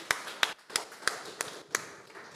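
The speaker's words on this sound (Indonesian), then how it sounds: "kita kasih tepuk tangan." A handful of sparse, separate claps ring out at a wedding ceremony, roughly six or seven sharp hand claps in loose rhythm, fairly faint and close, with no sustained crowd applause.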